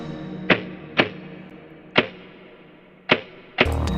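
A snare drum sound designed in Reason, heard solo as four sharp, isolated hits at uneven intervals, each with a crisp attack and short decaying tail, ending in a denser burst.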